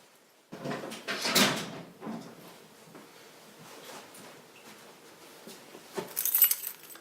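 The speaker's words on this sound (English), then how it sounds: "Scooter keys, house keys, Ray-Bans." Scooter keys and house keys jangle up close in a few bright bursts, with quieter handling noises in between and another clinking rattle near the end.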